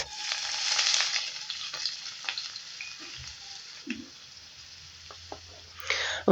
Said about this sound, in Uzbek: bitta piyoz va bitta sabzini mayda cho'rkadan chiqarib, qizib turgan yog'da yaxshilab qovurib olamiz.